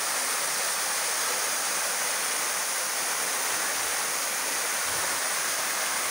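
The Cascata de Sander waterfall pours over rocks in a constant, dense rushing roar, loud and unbroken, with no talking.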